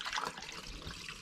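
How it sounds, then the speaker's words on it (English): Water poured from a gallon jug into a heat pump condensate drain, flowing and gurgling steadily at close range with no talking. "You can hear it just taking all of it, flowing good, as fast as I can pour it."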